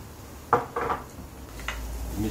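Food with garam masala stirred in a pot brings a few scraping, clattering knocks of a utensil against the cookware, irregular and close.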